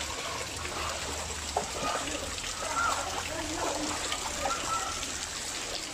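Hurricane floodwater from Hurricane Enrique in Melaque, Jalisco flows and splashes in a steady, dense rush that holds constant throughout, with small splashes rising now and then above the continuous wash.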